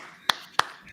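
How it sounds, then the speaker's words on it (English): Three slow, evenly spaced hand claps about a third of a second apart, sharp and close, with a faint room hum between them and no talking. "slow clap"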